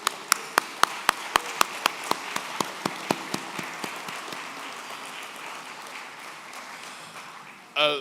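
An audience at a community center gala claps in a loose, rhythmic burst that starts strong with sharp individual claps, then thins and fades into scattered patter, ending with a brief louder rustle.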